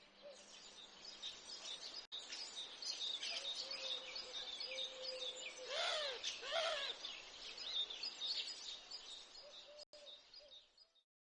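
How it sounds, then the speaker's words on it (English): Birds call softly and steadily in a quiet outdoor garden, with a few clearer hooting and warbling phrases rising above the light background chirps. "The birds will twitter quietly in the background while you fill in the gaps."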